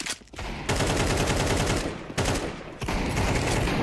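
Sustained automatic gunfire rattles through a Counter-Strike 2 firefight, dense bursts nearly continuous with two brief pauses, loud and close, no talking over it.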